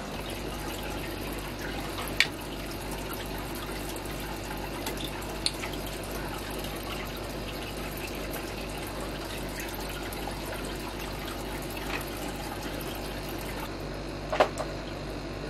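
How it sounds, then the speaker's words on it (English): Water running from a tap heated in a fish room and flowing into tubing, a steady low wash lasting throughout with a couple of faint clicks and a brief murmured voice. "So now, if I turn on this tap and heat it, the water should start dripping."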